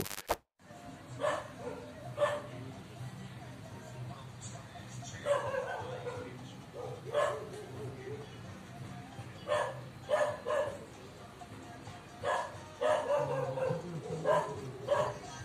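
A dog barks and yelps repeatedly in short bursts while attacked by a jaguar, over rumbling background noise, sometimes whining, with voices mixed in.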